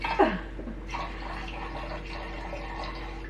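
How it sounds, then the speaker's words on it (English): Wine pours and gurgles briefly into a glass decanter, then a quiet room hush remains. "Pour it in the decanter."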